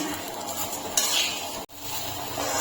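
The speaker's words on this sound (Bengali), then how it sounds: "এখন আমি আবার ভালো করে ভেজে নেবো চালটা" Rice grains sizzling and rustling in a hot pan while being stirred for pulao, with a clink of a utensil partway through, close and brief.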